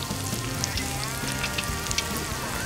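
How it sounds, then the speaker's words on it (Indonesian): Lime leaves and bay leaves sauté in a hot pan, a dense, continuous sizzle with scattered crackles, steady and close throughout. "Kita tumis lagi sampai semua aromanya keluar."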